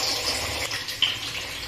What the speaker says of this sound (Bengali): এবার আমি চালটাকে জল ঝরিয়ে নেব